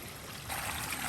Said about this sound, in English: there is water from a spring